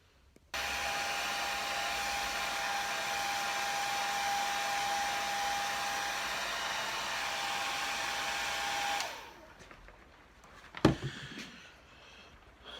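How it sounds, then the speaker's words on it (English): A hair dryer blows with a loud, steady whooshing whine for several seconds, then switches off, followed by a brief clunk and quiet handling noises. "I don't want you guys to have to listen to a hair dryer run for 5 minutes"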